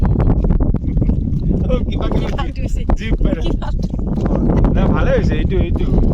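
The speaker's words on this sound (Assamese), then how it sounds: "যিহেতু ইমান ধুনীয়া বতাহ বলি আছিলে, চাওকচোন" Wind gusts steadily across a lakeside at Mawphanlur, buffeting the microphone with a loud continuous rumble while people talk.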